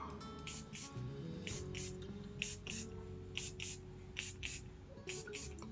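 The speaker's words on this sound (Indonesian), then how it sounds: "Semprot di baju." Aerostreet Alter Ego extrait de parfum is sprayed onto clothing in short paired hissing bursts, several quick puffs spread across a few seconds over a low steady background hum.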